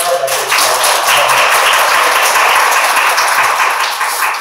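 An audience at an indoor lecture and book-discussion meeting in Yangjae-dong claps together in dense, steady applause that stays loud throughout with no pauses.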